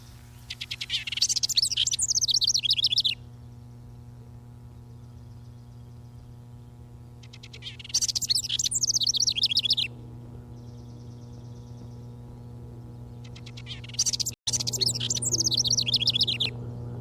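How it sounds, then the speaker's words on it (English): A bird sings loud bubbling, warbling phrases in three bursts separated by pauses, over a steady low hum. "pours forth a loud, bubbling song, shaking all over as he sings"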